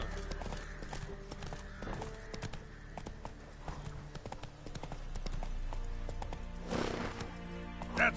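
Roach the horse gallops in The Witcher 3, rhythmic hoof clip-clops running steadily throughout, with a brief whinny and rustling near the end, over soft background ambience.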